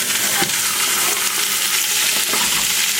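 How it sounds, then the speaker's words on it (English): Stewing beef browning in hot oil in a pot, a loud, steady close-up sizzle with a few soft stirring bumps. "Now I'm going to take my stewing beef and put all of it in there."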